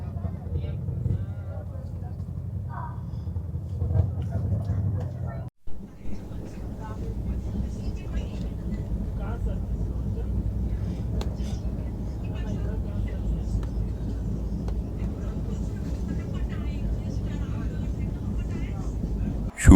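Steady rumbling drone of a passenger train running on the Howrah to Raxaul route, heard from inside the coach as a continuous low roar with one brief dropout, no talk.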